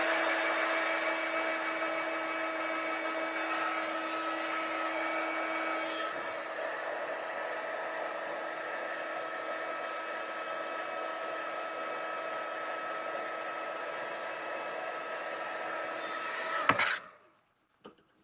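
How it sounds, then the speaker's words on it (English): Heat gun running steadily while melting white embossing powder on a greeting card, a loud continuous whirring blow with a fixed tonal hum, cutting off abruptly near the end. "So using the heat gun on the white powder as it melts"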